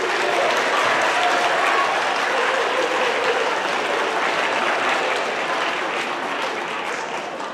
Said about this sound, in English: And just another round of applause for them.